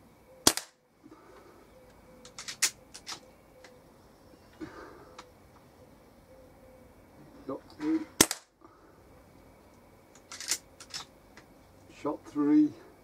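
A Weihrauch HW97 air rifle fires SMK Victory Strike pointed pellets, each shot a sharp, close crack, several spread out over the span with quiet handling noises between.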